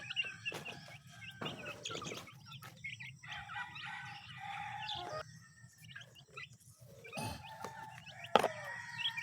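Pet chicks, hungry and waiting for food, peep in a steady chorus of high chirps with a few louder calls mixed in, close by and without talk.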